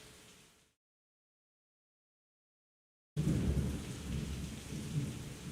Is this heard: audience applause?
no